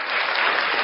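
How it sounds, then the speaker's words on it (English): A studio audience bursts into a short, dense round of clapping after a guest is introduced on a talk show, loud and continuous for the whole brief moment. "and the crowd goes wild"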